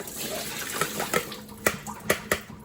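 Water draining off soaked ong choy (water spinach) in a kitchen, a soft running trickle punctuated by several sharp drips and splashes, fairly faint and close, with no talking.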